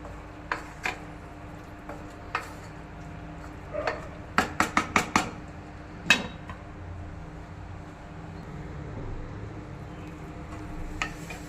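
Metal spoon scraping and clinking against a pot while stirring chicken pulao, a few scattered taps then a quick run of five sharp clinks, close and clear over a low background hum.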